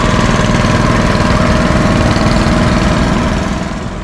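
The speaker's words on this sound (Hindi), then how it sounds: "ये छोटी सी मोटर काम कर रही है सारा।" A small motor runs steadily and loudly up close, a continuous buzzing drone with a rapid rough pulse that eases slightly near the end; no one speaks.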